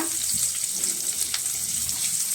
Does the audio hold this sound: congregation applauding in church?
no